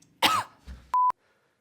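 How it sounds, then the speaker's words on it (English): A single sharp sneeze, loud and close, said to sound like a little baby elephant, followed after a short pause by a brief electronic beep tone. "That's how I sound when I sneeze"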